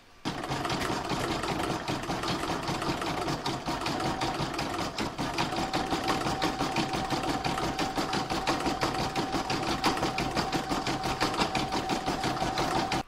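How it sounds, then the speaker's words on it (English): An embroidery machine sews satin stitching around the edge of a patchwork star design, a steady, fast, continuous mechanical whirring with a dense rhythmic needle chatter. It runs close and even throughout, with no talking. "I'm going to stitch round number 37, which is the satin stitching that goes all the way around the edge"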